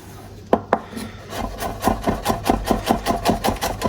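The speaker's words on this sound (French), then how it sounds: "Pour notre ail, on l'écrase" Garlic is crushed on a board: two sharp knocks, then a quick run of rhythmic, close rubbing and scraping strokes that grow steadily louder.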